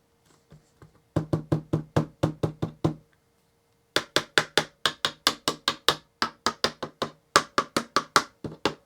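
Someone gives an Amiga 500 computer quick rhythmic taps to check for intermittent faults, producing close, crisp knocks in two runs separated by a short pause, with no talking.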